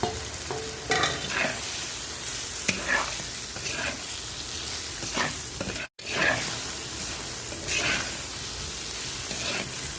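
Large prawns sautéing with spices in a clay pan, a steady close sizzle with repeated stirring scrapes and clinks throughout, with a brief gap near the middle.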